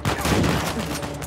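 Shotgun gunfire in the video game Uncharted 4, a dense burst of loud blasts filling the whole moment with sustained rumbling energy and no pause between shots.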